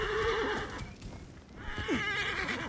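A horse neighs and whinnies in Assassin's Creed Origins, with hoof clip-clops close by over the game's ambient backdrop, and no talking.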